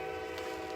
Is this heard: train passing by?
yes